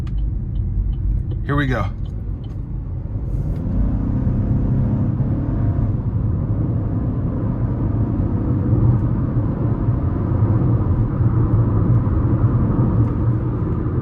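A 2026 Chevy Trax 1LT with a 1.2-litre turbo three-cylinder pulls hard up an interstate on-ramp, its steady low engine drone and road rumble heard from inside the cabin, with a brief spoken remark near the start.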